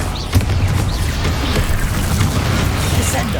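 Bombarda blasting spell going off in Hogwarts Legacy, a dense rumbling boom with a sharp pop near the start, then a sustained loud crashing roar amid battle effects.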